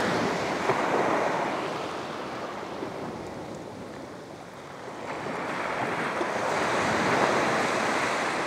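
Sea waves wash steadily onto a shore, a broad continuous surf roar that swells, dips slightly in the middle, then builds again, with some wind buffeting the microphone.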